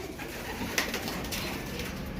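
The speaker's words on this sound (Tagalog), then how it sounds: "ba't may ibon sa labas?" A homing pigeon coos softly outdoors, a brief low murmuring call over faint background noise.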